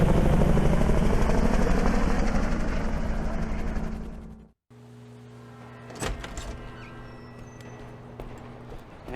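Helicopter lifting off in GTA Online, its loud rotor chop and turbine drone filling the first half before cutting out abruptly, then a quieter steady hum with a few knocks and a brief thump.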